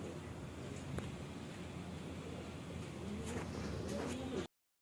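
Pigeons in a breeding loft coo softly in low repeated murmurs over steady background hum, faint and fairly distant, with light rustling and a brief sharper sound near the start.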